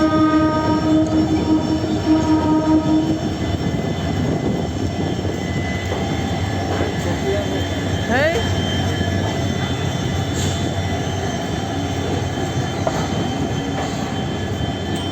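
A DEMU passenger train pulls into platform 7 at Guwahati, a steady loud rumble of wheels and carriages with brief metallic squeals and tonal hums rising over the continuous rolling noise.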